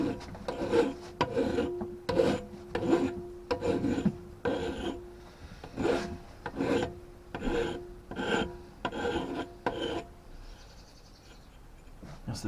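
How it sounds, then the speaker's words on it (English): About a dozen rhythmic rasping strokes of a file scrape burrs off the cut end of a fishing tripod tube in a shed, close and evenly paced, then stop, with faint birdsong outside. "So we'll just give that a quick file."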